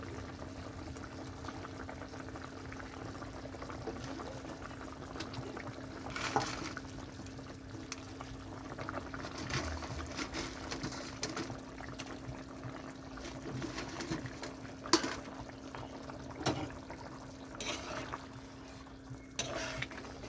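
Curry gravy with potatoes bubbling in a pot as cauliflower pakoras are dropped in, giving a soft steady simmering hiss with a low hum and a few faint knocks and splashes, quiet and without talk.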